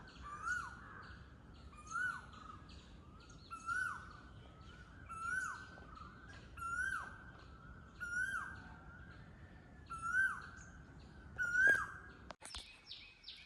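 An Asian koel calls repeatedly from some distance at Kozhikode fort, a rising two-note cry about every second and a half, growing slightly louder before a sudden clatter ends it.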